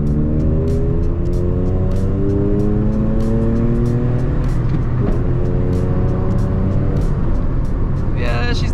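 A Toyota Aygo's small engine strains and climbs steadily in pitch under hard acceleration, heard loud from inside the car through a constant roar, with a brief shift near the end.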